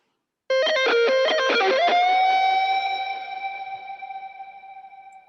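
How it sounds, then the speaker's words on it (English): A short plucked guitar phrase that rings out into a sustained chord, its tail fading slowly into a reverberant wash from a Valhalla VintageVerb reverb. "it's got this nice fade out going into a reverb channel"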